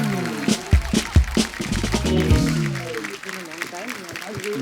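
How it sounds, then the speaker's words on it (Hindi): Studio audience on a TV comedy show, The Kapil Sharma Show, applauds while loud background music and voices play over it, the clapping forming a continuous bright wash beneath. "जोरदार तालियां"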